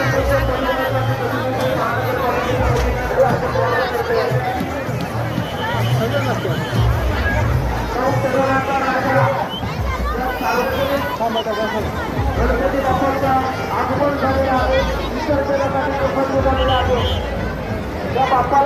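A dense crowd mills about at a Ganpati immersion in Navi Mumbai, a continuous babble of many voices with shouting and movement sustained throughout at steady loudness.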